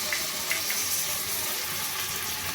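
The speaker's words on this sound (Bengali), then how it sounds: "সোয়া সস আর টমেটো সস দিয়ে পেঁয়াজগুলো ভালো করে ভাজা হয়ে গেছে।" Onions frying in a pan with tomato sauce and soy sauce, a continuous bright sizzle and hiss holding at an even level throughout, with no voices.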